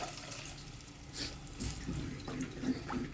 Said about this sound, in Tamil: புளி தண்ணி அப்படியே விட்டுக்கலாம்